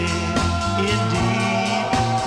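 A 1950s doo-wop/R&B side cut with a vocal group for King Records, playing from a vinyl 45 with steady rhythm and a full band and voices throughout.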